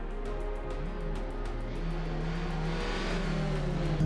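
A Honda Civic Type R FK8 engine pulls hard on track at Ebisu, a steady droning note climbing in pitch as it accelerates, heard from inside the car and fairly loud throughout.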